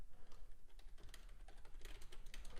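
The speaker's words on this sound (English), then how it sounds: "If you do see, or if you do hear typing, that's just me making alerts in the community that I offer." Rapid typing on a computer keyboard, a close, continuous patter of light key clicks with uneven bursts and no speech.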